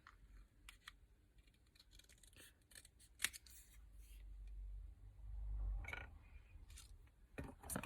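Scissors snipping through scrap card by hand for a layered card, a series of quiet, irregular crisp cuts with soft paper rustling between them, close and alone.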